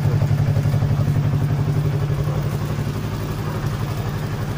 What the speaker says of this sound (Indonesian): Dengan knalpot yang sudah bobokan, sebenarnya bobokan nih, tapi nggak nyaring.